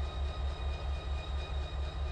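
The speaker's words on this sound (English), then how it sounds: "yeah, so we have trains running around" Trains running in the Run8 Train Simulator video game, a steady low rumble and rolling drone that holds evenly throughout, fairly faint and with no talking.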